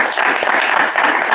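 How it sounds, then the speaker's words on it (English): A brief burst of audience applause at a community meeting, dense and continuous clapping heard on its own without talk. "So just want to give them a round of applause."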